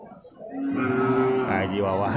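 A water buffalo at a livestock market in Purwakarta gives one long, loud, close moo that swells after a brief quiet start and holds to the end.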